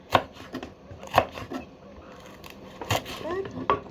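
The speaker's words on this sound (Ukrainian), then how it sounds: "Перчинку ріжу." Knife chopping a pepper into pieces on a board, several sharp separate knocks at an uneven pace, close and moderately loud, with faint background sounds in between.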